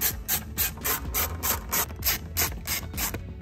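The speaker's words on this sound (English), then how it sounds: "Now we're gonna take our 10 mil and remove the 3 bolts here, here, and the last one is around the side." A 10 mm ratcheting socket wrench loosens bolts on the airbox of a 2.0L Dodge Hornet, giving rhythmic bursts of ratchet clicking, about a dozen even back-and-forth strokes close to the microphone with no talk.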